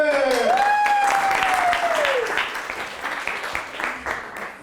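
Audience applause greets Dr. Emily Clements as she takes the stage at a business growth event, strong at first then thinning into scattered claps, with a tonal voice-like sweep over the opening.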